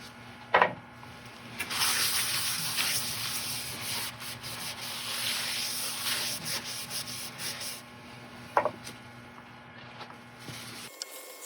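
Sealer is rubbed onto a segmented turning of ebony, oak and sapele, giving a steady close friction hiss for most of the span, with a couple of sharp knocks near the start and near the end.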